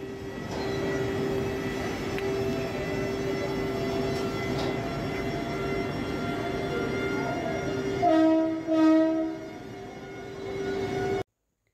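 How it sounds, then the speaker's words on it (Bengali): A train pulls away from Asansol station, a steady loud rumble of rolling wagons with a sustained horn-like tone running throughout and a brief louder tonal burst near the end before it cuts off. "ট্রেন আমাকে ছেড়ে দিয়ে রওনা দিল তার গন্তব্যের উদ্দেশ্যে।"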